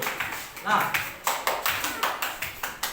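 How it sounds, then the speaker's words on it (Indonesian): Several people in a classroom clap for a student group in a quick, irregular burst, the sharp claps fairly close and steady for a few seconds with a voice mixed in. "berikan tepuk tangan yang meriah untuk kelompok 1"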